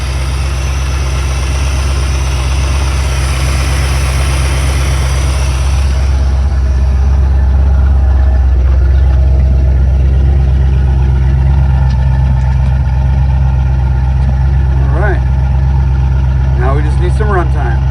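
A car engine fitted with Aces EFI Killshot fuel injection idles steadily close by, a loud, even low rumble that stays constant throughout, with a few brief squeaks near the end.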